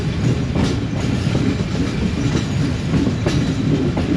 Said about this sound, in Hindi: हमारी ट्रेन ने भी शादराबाग जंक्शन स्किप कर लिया है, थ्रू पास हुई है